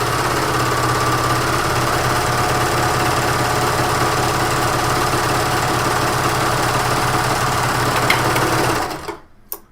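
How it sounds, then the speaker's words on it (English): A sewing machine stitches the top edge of a fabric overlay in a loud, steady, close whirring run that stops abruptly near the end. "I'm sewing the very top edge of the overlay."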